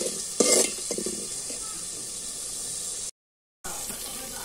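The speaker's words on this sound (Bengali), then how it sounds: "দিয়ে ভালো করে নাড়াচাড়া দিয়ে মশলাটাও ভালো করে কষিয়ে নিব" Spice paste with turmeric and salt stirred and fried in a pan for fish bhuna khichuri, a steady close sizzle with scraping strokes of the spoon near the start, then a short gap of silence before the frying resumes.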